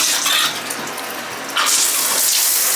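Water gushes steadily from a motel bathtub tap at decent pressure, a loud, close, continuous rushing splash that swells briefly partway through, with no voices over it.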